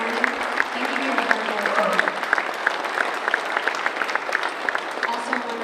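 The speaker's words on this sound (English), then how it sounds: "Can we first give a round of applause to Don Jarvis for the tremendous luncheon" Audience applause fills a veterans luncheon hall, a steady dense patter of many hands clapping close by, sustained throughout with scattered crowd murmur underneath.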